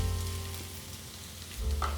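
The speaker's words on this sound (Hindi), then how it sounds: "गाजरों को भून लेंगे मीडियम फ्लेम पे ताकि गाजरों का कच्चापन ख़त्म हो जाए" Grated carrots frying in desi ghee in a pan over medium flame, a steady near sizzle with a stirring scrape toward the end, no voices.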